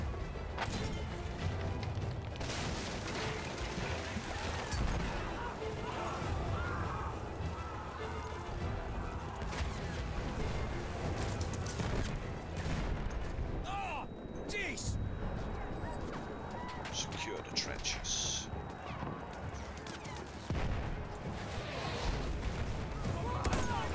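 Dense, continuous battlefield din of gunfire and heavy blasts in Battlefield 1 on Xbox Series S during a beach assault, loud and sustained throughout, with voices mixed into the chaos.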